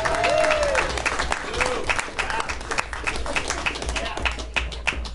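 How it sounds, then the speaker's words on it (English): Audience applause at a small live music show in Northport, a dense patter of clapping with scattered whoops and voices mixed in, moderately loud and fairly close, holding steady throughout. "Give yourself a round of applause."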